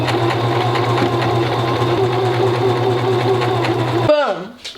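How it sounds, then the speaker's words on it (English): Home sewing machine stitching fabric, a steady close mechanical whir with a low hum that runs continuously and then cuts off abruptly near the end. "Put it down, begin sewing."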